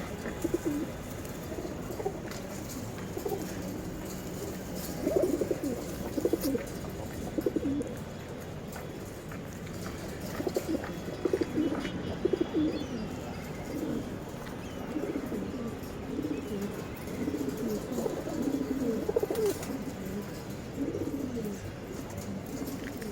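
Silver male pigeons cooing steadily in a loft, many soft, low, overlapping coos rolling on continuously, with a faint background hum.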